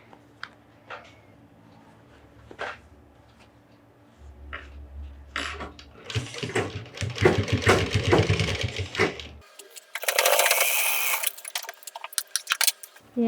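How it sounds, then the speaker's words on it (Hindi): Sewing machine stitching both side seams of a box-pleated skirt, short bursts of rapid mechanical whirring, loudest in the middle and again near the end, separated by quiet handling clicks. "सारा पार्ट एक साथ करके दोनों साइड का हम ऐसा सिलाई कर ले रहे हैं।"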